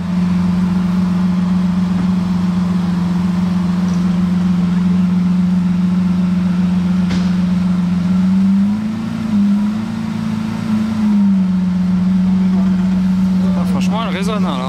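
A new Lamborghini Countach hybrid sports car idles loudly nearby in Paris, a steady deep engine drone with a short rise in revs midway, while people talk close by.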